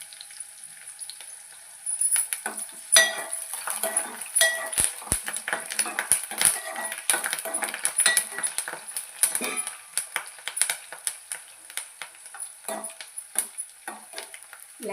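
Curry leaves fry in a pan while being stirred, with irregular metal spatula scrapes and clicks over a bright, continuous sizzle that builds after a quiet start.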